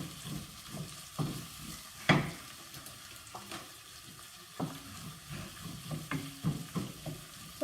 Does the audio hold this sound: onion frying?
yes